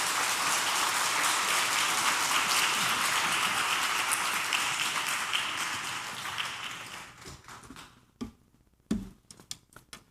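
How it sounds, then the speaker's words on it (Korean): Church congregation applauding loudly at a Korean worship service, a sustained dense patter of clapping that fades out over several seconds, leaving a few scattered final claps. "우리 나오실 때 잘 오셨다고 우리 크게 박수로"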